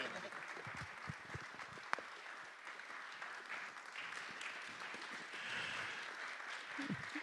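Audience applause of thanks at the close of a church question-and-answer session on science and theology, a steady wash of many hands clapping at moderate level throughout with scattered murmurs.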